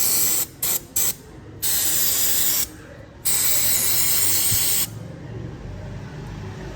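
Cleaner sprayed onto the dirty exhaust of a Yamaha R15 V3 motorcycle in short bursts and then longer hissing blasts, close and loud, followed by a steady lower background hiss.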